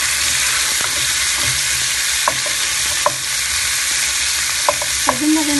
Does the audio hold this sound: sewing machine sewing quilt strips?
no